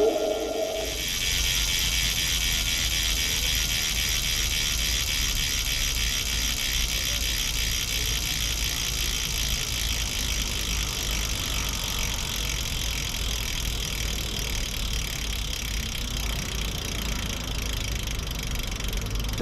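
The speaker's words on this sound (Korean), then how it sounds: "라쳇 ASMR 가보자고!" The freehub ratchet of a 2024 Trek Madone SL road bicycle gives off a loud, continuous, fast buzzing click as the wheel coasts, steady and close throughout, with no voices.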